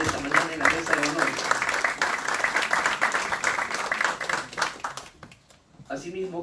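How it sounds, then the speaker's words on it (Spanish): Applause for a congressman seated at the head table of a political coaching workshop, a dense patter of clapping for about five seconds that cuts off, followed by a voice resuming. "Un aplauso para el congresista Francesco Petrosi"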